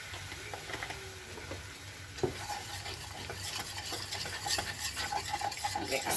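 Heavy whipping cream is stirred into a roux in a pan with a utensil, giving soft scraping and stirring sounds over a steady low sizzle, with one sharp clink partway through and the stirring growing busier toward the end.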